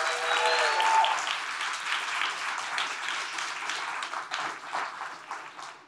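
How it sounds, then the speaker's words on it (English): Audience applauds two indie film directors at a live Dolby Institute podcast event, a steady wash of clapping hands from a room full of people that swells early and slowly thins out. "Give them a massive round of applause."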